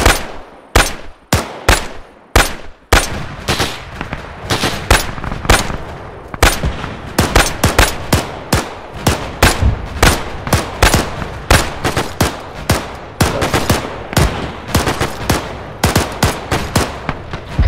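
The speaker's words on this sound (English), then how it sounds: "just engage with your MG" Machine gun fire in a military video game set in Operation Market Garden, loud and near, with repeated bursts and rapid cracking shots that keep up almost continuously, no talk.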